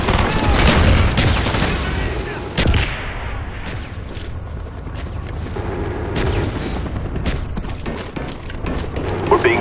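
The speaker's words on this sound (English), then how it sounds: "Friendly mortars inbound." Mortar explosions and scattered gunfire in a video game, loud booms and crackling shots layered over a dense battle din, with voices talking in the mix.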